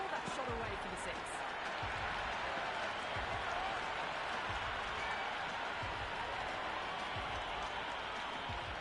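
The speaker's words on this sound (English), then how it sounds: "The crowd are really getting quite raucous." A stadium crowd at a T20 World Cup cricket match between South Africa and New Zealand in Ahmedabad cheers and applauds in a sustained, distant roar, heard faintly beneath a commentator talking.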